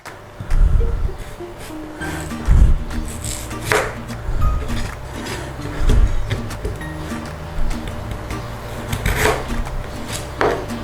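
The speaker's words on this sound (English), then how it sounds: "we need to cut the potatoes into equal sized pieces" A knife chopping potatoes into equal-sized pieces on a board, with irregular, fairly close knocks spaced about a second or two apart and quiet handling noise between them.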